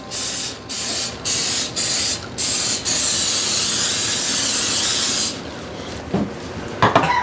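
Cooking oil spray on vegetables, with peppers among them, heading for a 425-degree oven: several short close hissing bursts in a row, then one long continuous spray, ending with light clatter.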